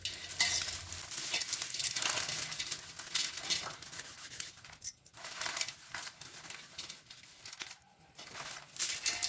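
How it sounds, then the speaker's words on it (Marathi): Fried sev, the crisp gram-flour noodles, is crushed by hand for sweet sev laddoos, giving a continuous dry crinkling and crackling rustle, close and fairly loud throughout with brief pauses. "हे अशा प्रकारे मी सगळी शेव हाताने बारीक करून घेणार आहे"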